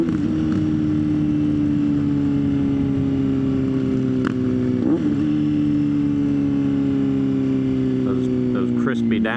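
A motorcycle engine drones steadily while riding, loud and close, with a brief rev blip midway as the gears shift down, under wind rush.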